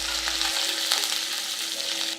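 Tempering for semiya upma, with curry leaves and cashews going into hot oil, gives a loud, steady sizzle and crackle close up, with a few stirring scrapes and no voices.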